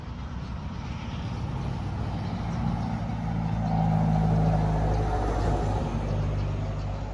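Steady low rumble of road traffic, a heavy vehicle swelling louder as it passes close by midway, then easing into continuous engine drone.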